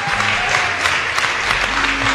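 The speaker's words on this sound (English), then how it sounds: "Can we give a round of applause?" Church congregation applauding during a Sunday service, a dense, steady round of clapping from a large crowd with some voices underneath.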